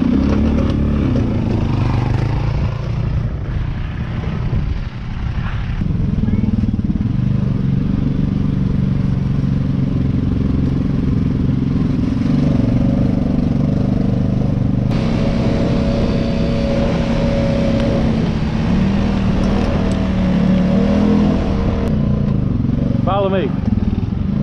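Kayo Bull 150 ATV engine running steadily and revving while ridden outdoors, a loud continuous motor drone with rising throttle near the end, under some talk.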